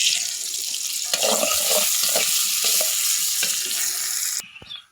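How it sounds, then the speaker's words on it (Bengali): Onions frying in a wok on a stove, a steady loud hiss of oil with clattering stirs and scrapes running throughout, cutting off abruptly near the end. "এদিকে পেঁয়াজটা ভাজি করতেছি"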